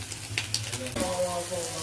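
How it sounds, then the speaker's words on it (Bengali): Onions frying in a pan alongside an egg produce a close, bubbling sizzle with some stirring clatter and a few sharp clinks; no speech is heard. "পেঁয়াজগুলো ভাজা ভাজা করে নিচ্ছি"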